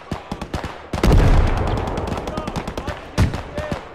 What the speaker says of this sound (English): Got an MG somewhere.